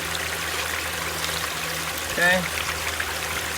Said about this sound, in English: I'm gonna add some water over here into the bucket of cons